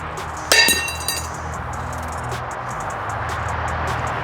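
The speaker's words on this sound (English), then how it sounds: "Let's go smack this thing with a hammer and see if that center will pop out." A single sharp metallic clank as a hammer strikes a 4Runner flex plate, ringing briefly and then fading into a steady low hum of the shop.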